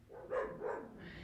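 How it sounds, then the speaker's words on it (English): Dogs bark in the background, two short bursts close together, moderately loud over a low room hum with no talking. "As the dogs bark in the background, we're working with that."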